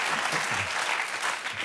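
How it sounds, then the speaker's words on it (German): Studio audience on a German TV comedy quiz show breaks into dense, sustained applause, a steady wash of many hands clapping at close range for the whole stretch. "Also den Applaus an dieser Stelle verstehe ich nicht."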